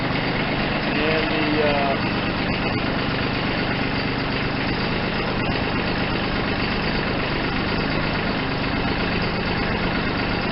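A Branson 2400h tractor idles steadily with its PTO spinning, a constant dense mechanical hum and vibration running unbroken throughout, loud and close, with a brief faint whine early on.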